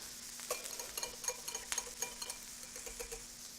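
Shrimp frying in peanut oil being stirred in a pan, a steady close sizzle with scattered scraping and clinking of a utensil against the pan.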